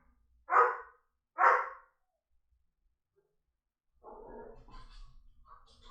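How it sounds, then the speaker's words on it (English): Two sharp barks close by, spaced about a second apart, followed by a pause and then fainter, scattered canine yips and whines. "They're barking."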